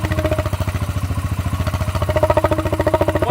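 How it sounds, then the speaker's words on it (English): A motorcycle exhaust with a tube held about six inches from the outlet, running at a steady idle. It gives a loud, close, rhythmic low putter with a metallic resonant hum on top, and the pulses grow slightly stronger toward the end. "you take your pipe and you kind of just position it about 6 inches from your exhaust"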